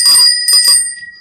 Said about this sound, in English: there's a bell, you can see